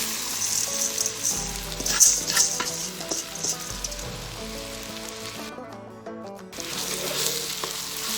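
Rice frying in a pan with browned garlic, a busy crackling sizzle with stirring scrapes, close and steady, briefly dipping quiet before picking up again.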